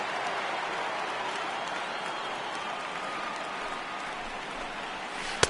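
Restless home crowd noise in the MLB The Show baseball video game during an ALCS postseason game, a steady wash of distant crowd murmur and rumble filling the whole stretch with no talk.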